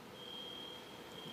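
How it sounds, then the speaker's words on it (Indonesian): An alarm sounding during a church sermon gives one steady, faint high-pitched tone held almost without a break over low room noise, with no talk. "Ini bunyi alarm atau apa ya?"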